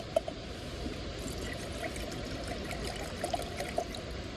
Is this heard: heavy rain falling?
no